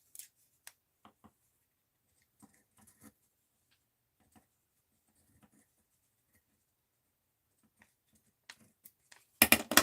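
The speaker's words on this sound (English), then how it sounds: "Now let's cut this." Scissors cutting out a paper doll of Queen Elizabeth II, sparse quiet snips and paper rustles spaced irregularly across a near-silent stretch, ending in a louder burst of crinkling handling.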